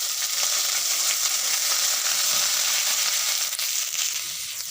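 Garlic, ginger and cumin paste fries with dried chillies and spices in a pan, a loud, continuous close sizzle that holds steady and eases slightly at the end.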